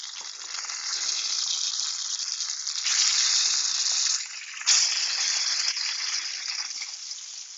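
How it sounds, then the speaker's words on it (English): A batch of pierogi boils in a pot of water, giving a steady bubbling hiss close by with no talk, briefly swelling louder midway before settling back. "I got one more batch boiling over here."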